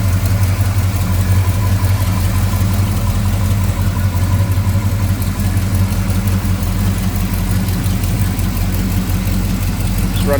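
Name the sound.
1955 Chevrolet 210 engine with Edelbrock carb idling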